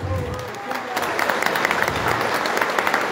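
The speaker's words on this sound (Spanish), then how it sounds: "le demos un aplauso a nuestra funcionaria" At a municipal public accountability hearing, an audience breaks into applause for a local official, the clapping building from faint to fuller and steady, with a voice and tonal sounds heard under it at the start.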